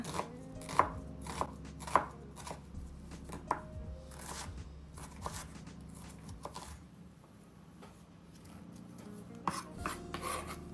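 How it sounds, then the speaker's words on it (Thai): A knife dices an onion rapidly on a cutting board, quick repeated strikes in bursts with a short pause midway, close and distinct. "แล้วก็หั่นหัวหอมนะคะ วันนี้เราจะใช้หอมใหญ่แค่ครึ่งเดียวนะคะ เราจะหั่นเป็น ลูกเต๋าเล็กๆนะคะ"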